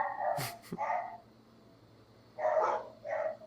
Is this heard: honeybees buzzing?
no